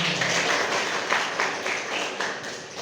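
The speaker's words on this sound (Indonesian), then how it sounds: "Oke, semua sudah fokus, tepuk tangan." Schoolchildren in a classroom clap their hands together in a dense, continuous round of applause that stays fairly loud and steady throughout.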